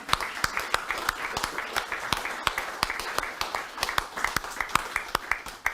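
An audience at an architecture talk on Arts and Crafts Richmond gives a round of applause, a room of individual sharp claps rattling steadily and clearly for several seconds with no speech.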